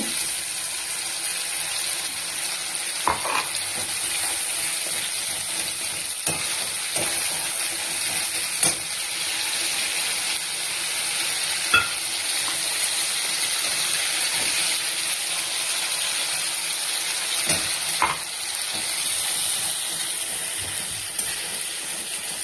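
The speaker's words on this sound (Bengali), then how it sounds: "এখানে মশলাটা ফ্রাই হচ্ছে" Spice paste for prawn curry fries in a pan with a steady hissing sizzle, a few faint clicks of stirring and a high steamy hiss, continuous and moderately loud with no voices.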